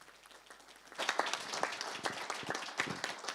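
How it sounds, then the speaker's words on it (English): Audience applause at an international forum panel on European Ukraine, starting after a brief quiet moment and swelling into steady, dense clapping that carries on to the end. "Let's give him a huge round of applause."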